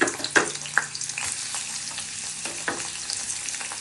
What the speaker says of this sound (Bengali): এখন আমি পেঁয়াজগুলোকে ভেজে নিচ্ছি।